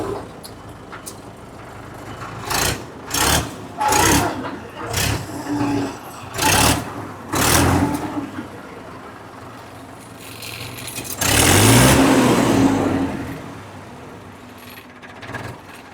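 A Mahindra 575 tractor engine turns over in repeated short revving bursts, then roars in one longer, louder rev near the end, heard up close with pauses between pulses.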